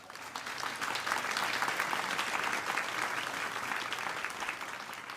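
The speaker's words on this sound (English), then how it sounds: "And as you continue to clap" An audience claps for the musicians after an outdoor lakeshore church service, a steady, dense wash of applause from many hands that holds evenly throughout without speech.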